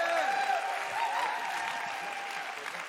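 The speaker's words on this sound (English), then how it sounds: "Everybody, big round of applause." An audience at an event welcomes someone to the stage with sustained applause, a continuous wash of clapping and crowd noise with a voice briefly calling out over it at the start.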